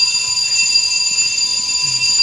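Fire alarm sounding during a smoke detector check: a loud, steady electronic tone with piercing high harmonics, continuous throughout and close by, with faint low rumble beneath.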